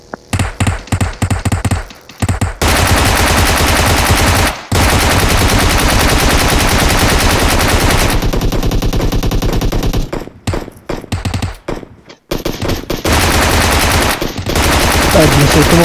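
Rapid bursts of automatic gunfire in the video game PUBG Mobile rattle almost continuously, loud and close, with brief gaps between volleys.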